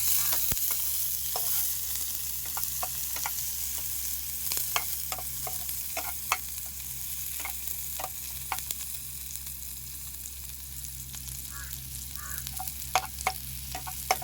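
Onions sautéing in hot oil in a pan for a ghee podi chicken, stirred now and then: an even, close sizzle runs throughout with scattered light clicks of the spoon against the pan.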